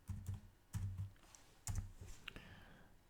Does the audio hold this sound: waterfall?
no